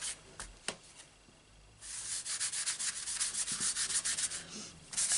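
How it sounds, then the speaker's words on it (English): An embossing buddy rubbed firmly across a paper card, quick close scratchy strokes in a steady back-and-forth rhythm, faint at first and then continuous and louder. "give the card a really good rub."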